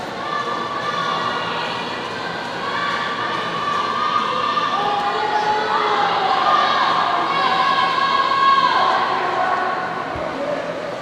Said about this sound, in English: You can hear teammates, classmates, friends, and coaches cheering on the rest of their team as they drive down now to finish.